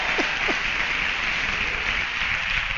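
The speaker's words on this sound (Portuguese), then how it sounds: "dê um aplauso a Jesus aí" A church congregation applauds together, dense steady clapping filling the hall throughout, with a short spoken interjection at the start.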